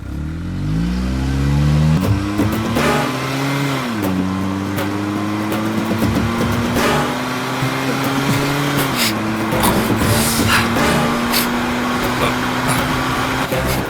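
A car engine revs up and pulls away quickly, its rising then steady whine carried through the whole stretch under music and background noise, with a brief dip and climb as it shifts.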